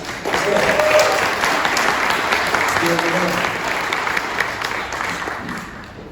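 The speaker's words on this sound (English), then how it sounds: "Give them a round of applause." An audience applauds presenters coming to the stage at a business event, a full, steady burst of clapping that stays loud and gradually thins out, with faint voices mixed in.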